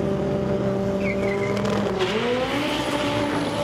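Front-wheel-drive drag race car launching hard down the strip at a competition clutch drag series event, a loud continuous engine roar climbing in pitch with a brief tire squeal, close and steady.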